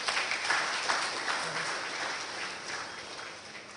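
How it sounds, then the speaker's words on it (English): An audience at a memorial lecture gives supporters a round of applause, a brief burst of many hands clapping at moderate distance that gradually softens over a few seconds. "Let's give these supporters a resounding round of applause."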